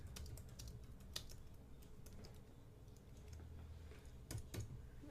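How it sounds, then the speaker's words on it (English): Typing on a computer keyboard, a quiet run of close, irregular key clicks with a few sharper taps, alone without voices. "if you just want to add text, you can just go ahead and type away."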